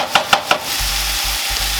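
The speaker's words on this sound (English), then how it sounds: "Give that a nice stir." Brown sugar glaze for bourbon bacon yams bubbles in a pan as a utensil stirs it, opening with three light scrapes before a steady, loud sizzle fills the rest.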